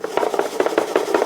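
A salt rub mix for pork tenderloin stirred in a bowl, a steady rhythmic rasping scrape repeating about every fifth of a second, close and moderately loud, with no talking.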